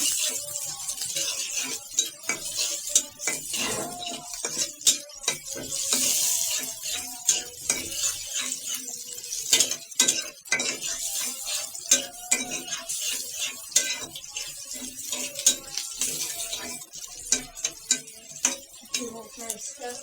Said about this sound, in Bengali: রসুনটা একটু ভাজা হোক,